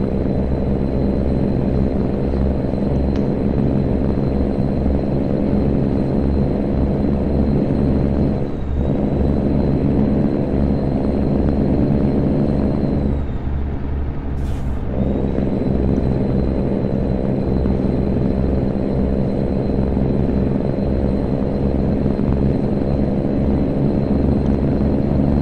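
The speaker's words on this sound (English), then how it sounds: "the truck's running a Cummins N14" A Cummins N14 truck engine in American Truck Simulator drones loudly and steadily throughout, with a brief dip in the middle and no talking.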